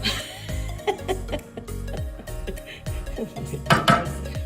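Ingredients for dinner are mixed in a bowl with a utensil, giving irregular close scraping and clinking knocks in uneven bursts, with a few louder clatters near the end.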